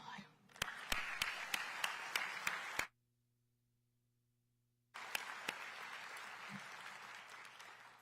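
Dense audience applause fills a county government State of the County address in DeKalb County, cutting out abruptly into about two seconds of silence before the clapping resumes just as strongly.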